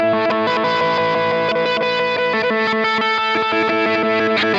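Guitar run through a BL-44 reverse effect pedal swells in continuously with backward-sounding, distorted notes, giving a loud, dense, washy wall of tone with no speech.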